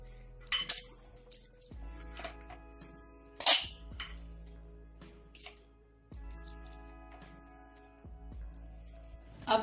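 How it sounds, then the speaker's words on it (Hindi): Aloo chaat is spooned onto a plate with a few sharp clinks of dishes and cutlery, one louder clink standing out, over a low steady hum and faint drips. "तो हम एक प्लेट लेंगे और इसमें हम चाट को डालेंगे।"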